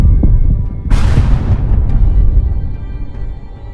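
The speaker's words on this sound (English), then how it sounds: "Another perfect explosion, another tank down" A drone strike explodes against a Russian tank, a loud deep boom that swells suddenly and rumbles away over a few seconds within a low continuous drone.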